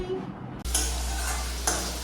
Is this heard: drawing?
no